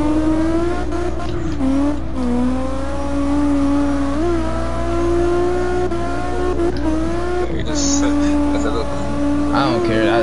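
Formula Drift competition car drifting on wide tires, a loud engine holding a high, wavering rev for the whole stretch, with shifts in pitch and some tire noise and a voice talking over it.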